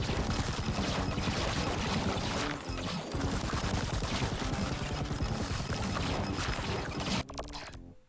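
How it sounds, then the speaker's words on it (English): Relentless machine gun fire from a mech in Mercenary Battle Company, dense overlapping bursts of rapid shots with mechanical clatter, loud and continuous for several seconds before briefly tailing off. "More machine gun stuff"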